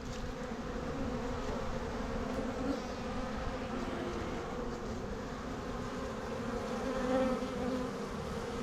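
Honeybees buzzing in a dense, continuous drone close by as beehive frames are shifted and lifted apart, the steady hum swelling slightly near the end, with no talking.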